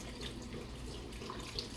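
Water runs steadily from a kitchen tap while a hand is rinsed, a continuous hiss with faint splashing that stays fairly quiet and has no voices over it.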